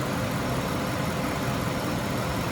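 A 1997 Ford Mustang Cobra engine idles as the clutch engages, giving a steady, dense, close mechanical rumble with a broad hiss and no change in rhythm over a few seconds, with no voices.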